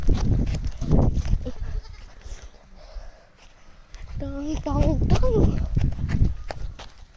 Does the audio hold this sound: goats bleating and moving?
yes